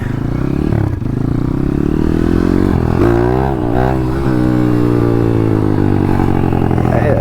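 A 150 RXF motorcycle rides along a hillside road in the Meuse countryside, its engine droning loud and steady throughout with pitch rising and falling as the rider shifts and revs, plus brief clattery moments near the middle.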